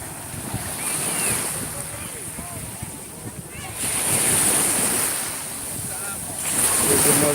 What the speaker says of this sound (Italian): Il rumore dell'acqua è la fine del mondo, ragazzi, come sempre.